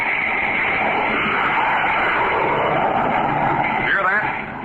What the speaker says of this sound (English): You're listening to the blazing roar of a jet plane.